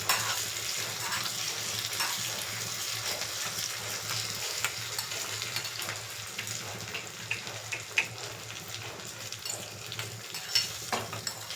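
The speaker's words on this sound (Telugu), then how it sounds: "జీడిపప్పు కొంచెం ఫ్రై అవ్వాలి" Cashews and tempering spices frying in hot oil in a pan for a curd idli dish, a steady close sizzle with occasional stirring scrapes and crackles, no voices.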